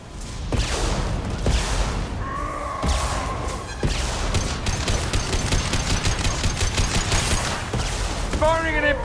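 Impact shots and combat gunfire from Mass Effect 2 sound as dense, loud volleys of rapid shots and thuds. Brief voice-like bursts rise between the firing.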